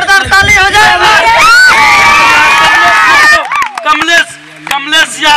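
Loud, dense crowd cheering and shouting at a rural wrestling bout in Bihar, with whoops and voices in a continuous roar that breaks off abruptly, followed by scattered shouts.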